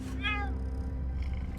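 A short cat meow from a Path of Exile game trailer, moderately loud over a constant low background hum.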